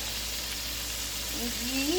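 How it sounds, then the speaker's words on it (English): A soft, steady sizzle of crabs frying in a pan, close and continuous, with a faint tonal whine rising near the end. "sizzling, cooking, lovely. And I'm going to turn it soon because the crabs are done."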